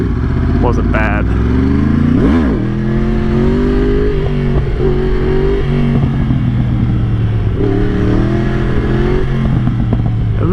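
A 1000cc motorcycle engine revs for a wheelie, its pitch climbing and falling in sharp throttle blips before settling into a steady, loud drone, with someone talking over it.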